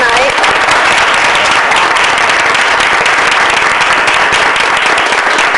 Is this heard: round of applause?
yes